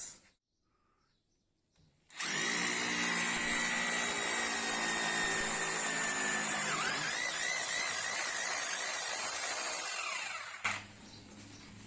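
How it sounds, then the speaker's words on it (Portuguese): After a short quiet pause, a loud Philco PMT01 900W hammer drill with a number 6 bit starts up and grinds steadily into a concrete column for several seconds, then winds down to a lower hum. "Agora vamos furar e bater. Vamos furar e bater com a broca de número 6."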